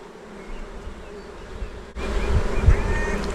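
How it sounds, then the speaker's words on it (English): Honey bees buzzing during a shook swarm hive manoeuvre, a dense droning hum close to the microphone that jumps louder partway through as more bees take to the air, with no talk. "Now there will be phoretic mites on these bees."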